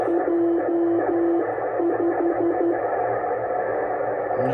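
CB radio reception through a K40 2-foot Flex series quarter-wave antenna, a low steady hiss with brief beeping tones near the start, heard alone.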